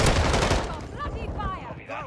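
Rapid bursts from an FSS Hurricane in Modern Warfare II, loud and close at first and fading within two seconds, with a voice coming in underneath as the shots die off.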